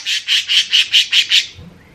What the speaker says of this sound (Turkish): Dışarıdan kuş sesleri geliyor.